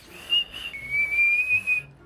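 A person whistles a short sustained tone for about two seconds, slightly wavering in pitch, close and clear against a quiet background.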